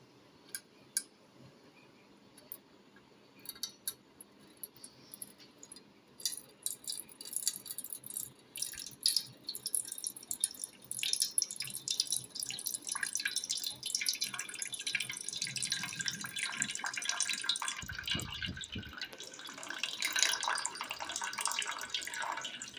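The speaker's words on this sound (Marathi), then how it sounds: "आपल्याला हे पाणी असं दुसऱ्या भांड्यात गाळून घ्यायचं आहे" Water is strained off soaked sorghum flour and poured into another vessel for papad making, giving a steady trickle with scattered drips and splashes that swell toward the end, with no talking.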